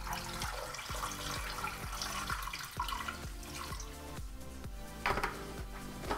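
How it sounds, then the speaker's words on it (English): Running tap water pours into a pot holding frozen bones, a steady close splashing and gurgling stream that carries on alone without talk. "So we're gonna fill the pot with water."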